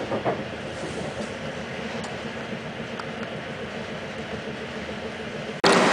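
A train rumbles steadily near Katowice, Poland, with continuous rolling noise and faint rhythmic clatter, close and sustained, with a sudden louder burst at the very end.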